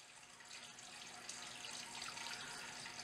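Running water splashes steadily over sausage casings (intestines) being rinsed for homemade bratwurst at a sink, a continuous close faucet stream with no talking.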